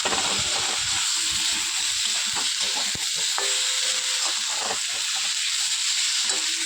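Turmeric and chilli powder masala sautés in a kadai for a fig (dumur) curry, a loud continuous hissing sizzle with scattered scraping stirs and light clinks throughout.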